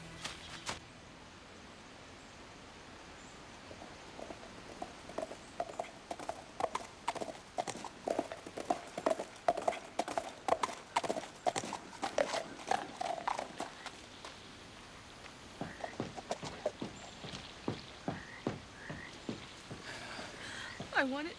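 Horses walking on a hard road, a steady rhythmic clip-clop of hooves that builds, continues for many seconds, pauses, then resumes, fairly faint with a low voice briefly beneath.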